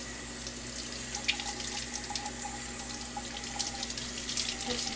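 Cold tap water runs steadily into a sink while a raw whole chicken is rinsed, with a continuous close splashing hiss, faint irregular taps and plops, and no speech.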